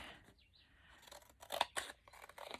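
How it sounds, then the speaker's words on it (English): Scissors snip through a decorated paper piece for a handmade journal, a few close crisp cuts bunched together with soft paper rustling between them. "I think I'm going to trim this down a little more neatly"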